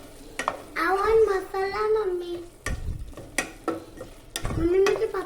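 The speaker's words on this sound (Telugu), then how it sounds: "ఇప్పుడు దీంట్లో నుంచి ఆయిల్ సపరేట్ అయ్యేదాకా అయితే ఈ వెజిటేబుల్స్ అయితే కుక్ చేద్దాం" Paneer and capsicum fry in oil with a steady sizzle and the scrape of stirring, heard beneath a voice talking throughout.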